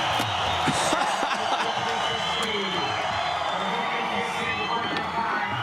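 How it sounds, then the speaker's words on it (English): A large crowd at a Street League skateboarding contest in Foz do Iguaçu cheers and roars continuously, a dense wash of shouting and whooping that stays loud from start to finish. "Listen to this crowd."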